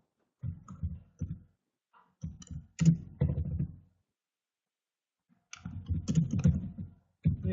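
Fingers tap out HTML on a computer keyboard in several bursts of quick, close clicking keystrokes separated by short pauses, with no speech.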